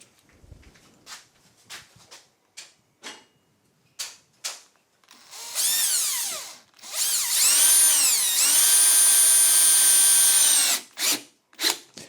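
A power drill drives 30mm 4-gauge screws into a wooden shelf during assembly, loud whirring bursts that rise and hold, after a few light knocks and handling sounds.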